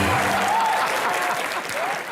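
A studio audience on a comedy show claps in loud, dense applause that runs steadily throughout, thinning slightly toward the end, with a voice audible faintly over it.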